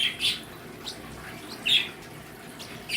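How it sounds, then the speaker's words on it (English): Pet budgies in an indoor bird room give a few short, bright chirps spaced apart over a soft background hiss, with no talking. "So this is my bird room. This is where my birds get to hang out all day up here and fly to the other side."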